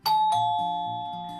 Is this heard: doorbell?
yes